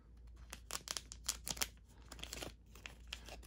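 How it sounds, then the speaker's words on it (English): Foil wrapping on a Yugioh and Metazoo first edition trading card pack crinkles and crackles close up as it is cut open at the top, in a quick irregular run of sharp rustles. "Snip at the top."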